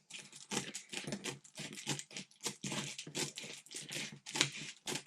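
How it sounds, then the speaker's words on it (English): The base of a UV light box is roughly cut, giving a rapid run of close, crisp snipping and tearing strokes in uneven bursts separated by brief pauses. "So we'll start by just roughly cutting the base."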